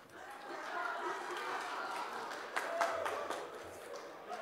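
Church congregation applauding during a Sunday worship service, a steady wash of clapping hands at moderate distance that fills the whole stretch, with a few voices murmuring underneath.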